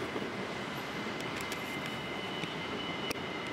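An LRT light rail train passes in a city, heard from a rooftop as a steady, broad rumbling wash of noise lasting throughout, with a few faint clicks and higher tones over it.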